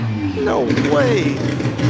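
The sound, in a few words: loud rotary engine car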